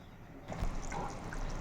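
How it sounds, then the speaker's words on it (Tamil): Thick dried-fish curry bubbles and simmers steadily in a clay pot up close, a soft continuous gurgling with no voices. "பாருங்கள் குழம்பு நல்லா கொதிக்க ஆரம்பிச்சிருச்சு"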